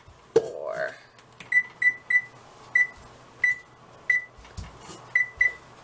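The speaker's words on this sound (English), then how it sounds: "the timer just beeped and we're gonna pull them out of the oven" An oven timer in a home kitchen sounds a series of short, evenly spaced electronic beeps, about ten in a row, fairly soft and clear after a brief thump at the start.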